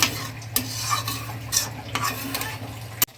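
Sardine curry with mustard paste and slit green chillies stirred in a pan, a spoon scraping in repeated strokes over a steady low sizzle, close and moderately loud.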